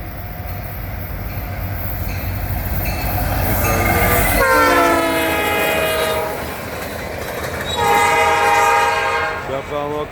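A southbound local freight train led by an IC SD70 and an ex-GTW SD40-2 locomotive hauls two tankers past, close and loud, rumbling steadily. Its air horn sounds two strong blasts, and a voice speaks faintly early on.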